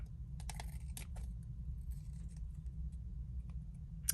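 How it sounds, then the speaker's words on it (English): Scissors trimming overhanging paper off the edge of a crafted notebook give several quick, close snips and clicks over a faint low background hum. "I'm just going to trim what is hanging over"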